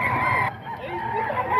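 A seven-month-old SBR bloodline gamecock crows close by in a short, harmonic call that fades partway through, with a faint background murmur.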